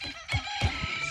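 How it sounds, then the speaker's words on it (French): A rooster crows faintly in the distance, two short broken calls that stand out from a steady background hum, with no talk over them. "Deuxième fois de la vidéo, juste à peine qu'on entend le coq."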